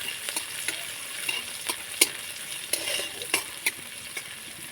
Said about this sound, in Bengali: একটুখানি আদা কুচি আর লঙ্কা কুচিটা ভেজে নেব।